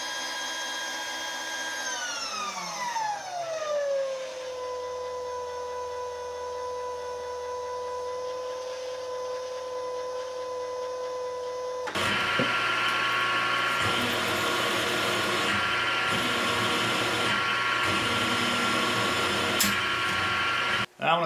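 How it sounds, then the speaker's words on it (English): A power drill winds down in pitch, then whines steadily before a louder, rougher grinding as it bites into material while drilling a hole for a folding wood chipper hitch, close by and continuous. "now I just need to drive over and drill this hole"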